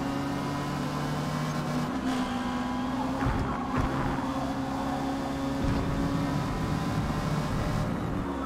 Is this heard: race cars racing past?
yes